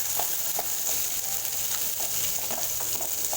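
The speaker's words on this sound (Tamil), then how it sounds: "சின்ன வெங்காயத்தை நல்லா வதக்கி விட்டுக்கலாம்." Shallots, onion and green chillies sauté steadily in hot oil for cabbage poriyal, a loud continuous sizzle close up with a few soft stirring clicks and no voices.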